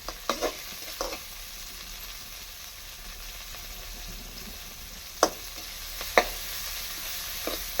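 Soft steady sizzle of spring onions and coriander sautéing in a pan, with a few sharp scrapes and clicks of a spatula stirring, no talking.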